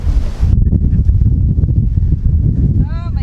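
Strong wind buffets the microphone outdoors while sap is being poured in the open, a loud, steady low rumble with gusty swells that carries through the whole stretch after a brief burst of hiss at the start.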